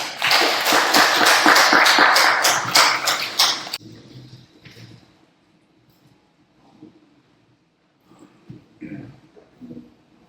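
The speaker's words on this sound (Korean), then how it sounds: "큰 박수 부탁드리겠습니다." An audience at a business technology seminar breaks into a loud burst of applause for about four seconds, then it fades quickly into a quiet room with faint shuffling and a voice starting to speak.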